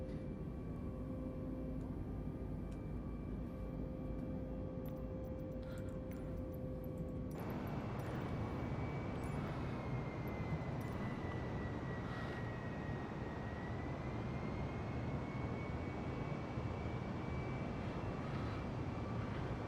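Simulated airplane in Microsoft Flight Simulator flying after takeoff, a steady engine drone throughout; a quieter tonal hum opens, then the engine roar thickens and stays loud and continuous to the end.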